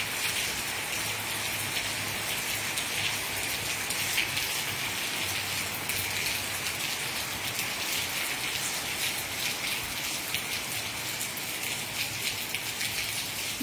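Steady light rain patters continuously, a soft even hiss with fine drops throughout and no voices.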